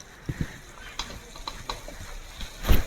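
Large chopped tomato pieces hitting hot spiced oil for a goat-fat ghugni, giving a soft sizzle with scattered scraping clicks of stirring and a louder splash of frying near the end, close and fairly quiet.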